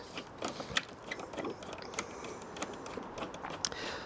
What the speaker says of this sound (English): So going to go ahead and tighten up the screws on the air filter.